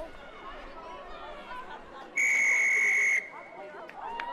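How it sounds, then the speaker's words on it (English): At a women's rugby league match, a referee blows one sharp whistle blast lasting about a second over crowd chatter and commentary. "Whistle on that one."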